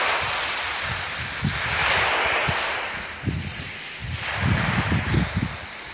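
Ocean waves surge and wash in a schoolgirl simulator video game, a broad rushing swell that rises and falls over several seconds with low thumping pulses underneath.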